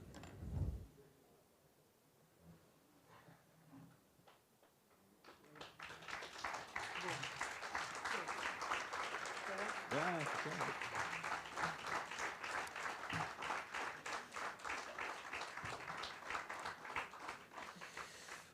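An audience applauds after a literary reading paired with live drawing. The room is quiet at first, then clapping swells in and stays sustained and fairly full, with some talk underneath.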